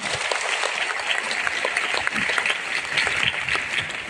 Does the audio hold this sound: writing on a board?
no